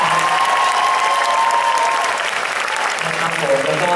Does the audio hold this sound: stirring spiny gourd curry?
no